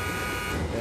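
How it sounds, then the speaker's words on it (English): A buzzer marks the end of the first quarter in an NCAA men's college basketball game between Benilde and LPU, a loud sustained electronic tone held steadily throughout the short moment amid arena noise. "Versosa to Villegas at the buzzer"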